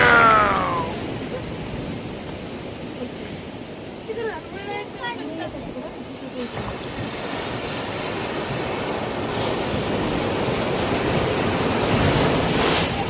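Big ocean waves crash and roll onto the shore in a steady, loud wash of surf with wind noise on the microphone, while a voice talks over the roar.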